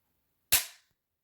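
A single sharp dry-fire click from a bolt action rifle trigger, close and crisp with a quick fading tail, alone in silence.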